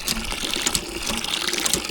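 Water gushes steadily from a newly installed hand pump in a village, a continuous broadband splashing rush close by with no talk over it.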